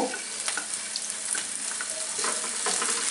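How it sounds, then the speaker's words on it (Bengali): Small chopped shrimp frying in a pan, a close, bright sizzle with crackling pops and a few soft scrapes as they are moved about, steady throughout the short stretch. "দিয়ে এটাকে একটু ভেজে নিই, এই কয়েক সেকেন্ড মাত্র, হয়তো 20-30 সেকেন্ড।"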